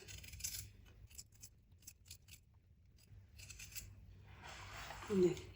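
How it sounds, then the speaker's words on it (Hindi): Scissors snip through food while preparing crispy chicken snacks, a few soft rasping cuts near the mic with a louder snip at the end, over low background noise. "थोड़ा सा ऐसे इसको काट लेंगे, फिर हम इस तरह काट"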